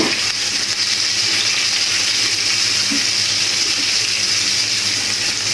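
Chopped onion frying in hot oil with cloves while cooking a Bangladeshi prawn malai curry, a steady, loud, close hiss and sizzle that continues without a break.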